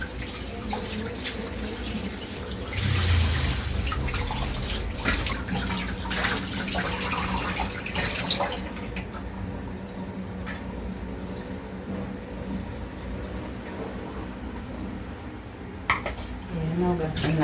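Fish and chicken being washed under a running kitchen tap, with steady rushing water and repeated clinks and clatters of dishes in the sink throughout, the water thinning partway through and a sharper knock near the end.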